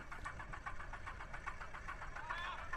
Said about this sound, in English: it's a typical hot start, vapor locking the engine, blowing too much fuel in the lines